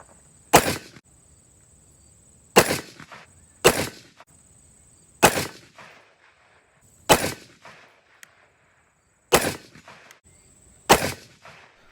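A Mini-14 rifle fired at a range with 20-round straight magazines gives sharp, loud cracks. Seven shots come at irregular intervals of one to two seconds, each trailing off into a brief echo, with no talking.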